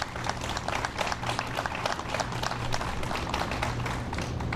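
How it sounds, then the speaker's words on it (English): Audience applause for a taqueria being named a neighborhood grant finalist, a steady wash of clapping from a crowd that holds evenly throughout with a low hum underneath. "So a round of applause for Taqueria Huentitlan"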